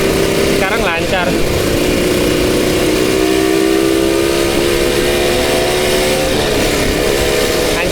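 A Suzuki Satria two-stroke motorcycle rides through city streets with its engine buzzing loud and near, its pitch climbing and holding through gear changes, with a voice speaking briefly early on.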